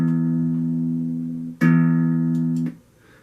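An online guitar tuner plays a steady reference E note twice, with a sustained electronic tone lasting about a second and a half, a brief break, then the same tone again before it stops.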